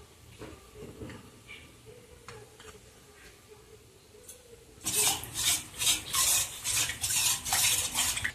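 Cold milk mixed with cornflour, sugar and salt is stirred with a spoon in a bowl or pan, soft scraping at first, then brisk rhythmic clinking and rasping strokes that grow louder and repeat steadily.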